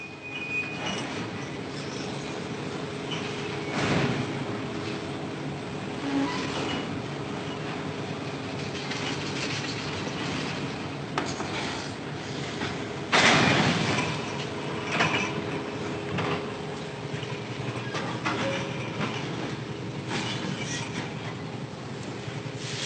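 Long freight train of ore wagons rolling steadily on rails in the Sahara, a continuous rumbling clatter with periodic louder clanks of couplings and wheels, close by and without talk.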